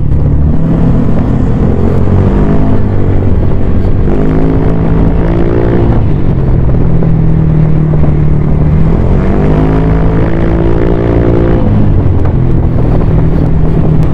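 A Honda Click 125 scooter with a Replica Pro aftermarket exhaust idles, then revs up and down twice in long smooth swells, a steady exhaust drone with wind noise throughout.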